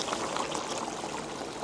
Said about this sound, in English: We will add 1 more cup of water.